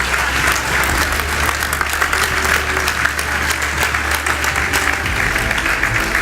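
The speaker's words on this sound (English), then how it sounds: "Give them a big hand of applause." Audience applause for a team at a tech event, loud steady dense clapping from a large crowd sustained throughout, without speech.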